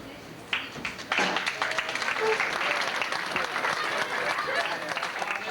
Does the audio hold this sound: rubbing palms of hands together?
no